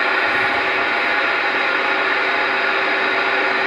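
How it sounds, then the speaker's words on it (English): Loud, steady hissing white noise comes from an amateur radio with the tone turned all the way down, an unbroken static wash with no voices. "The white noise, the noise floor has been improved on this radio."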